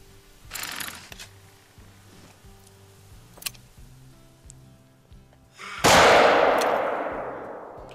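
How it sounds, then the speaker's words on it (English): A hunting rifle fires a single loud, close shot in The Hunter: Call of the Wild during a roe deer hunt, a sharp crack with a long rolling decay over quiet mechanical clicks and ambient forest sounds. "I might as well get this one with the gun to get it over with."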